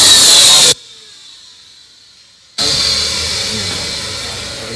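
A handheld air blower clears dust from an opened computer, giving a loud hissing rush of air in two bursts separated by a short quiet pause.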